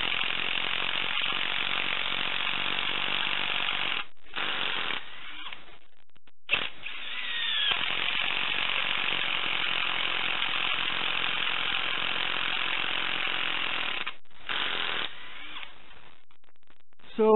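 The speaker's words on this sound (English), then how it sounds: "So we're kind of just drilling maximum amount of holes in this thing." A drill whirs steadily and loudly while boring holes in an axe handle, stopping briefly a few times before starting up again.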